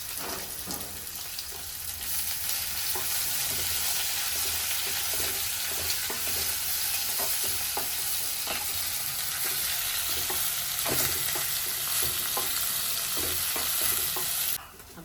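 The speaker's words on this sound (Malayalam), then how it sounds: "സബോള അങ്ങനെ ഇത്തിരി എണ്ണയിൽ നല്ലോണം നമ്മള് മൂപ്പിക്കണം" Sliced onions frying steadily in a little oil in a pan while being stirred, giving an even broadband sizzle with repeated soft scraping strokes throughout, close and fairly loud, with no talking.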